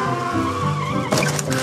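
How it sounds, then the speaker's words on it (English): A cartoon car skids with a squealing, tonal slide, then a sudden noisy burst as it crashes, loud and near, with no talk. "Crash! There's been an accident."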